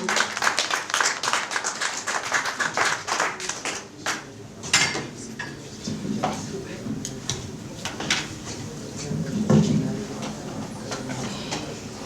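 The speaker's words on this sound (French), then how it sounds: "On poursuit les applaudissements pour accueillir Jo-David Mbombo." An audience at the inauguration evening of Happy Association claps to welcome a speaker: scattered, uneven claps from a moderate distance, mixed with voices talking in the room.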